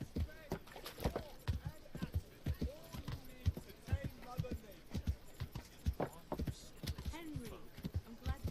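Horse hooves clip-clopping in Kingdom Come: Deliverance, a steady rhythmic series of moderately close hoof strikes with a person talking over them.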